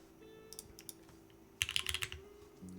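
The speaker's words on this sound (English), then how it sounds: "They're building a keyboard right now." Keys clatter on a freshly built mechanical keyboard, quiet scattered presses followed by a brisk burst of rapid typing and clicks, close and alone.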